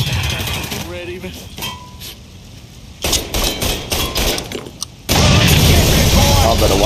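A grenade blast in the open-world crime game Mafia 3, heavy booms and bursts of combat noise, with a loud sustained roar of explosion near the end and voices earlier.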